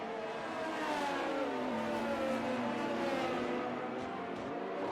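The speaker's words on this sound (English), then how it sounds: "I believe that is a Ferrari retiring in the pit lane." Ferrari race car retiring in the pit lane during a racing video game at the Portugal Grand Prix, engine note droning steadily and continuously with a layered harmonic whine, moderately loud and alone without talk.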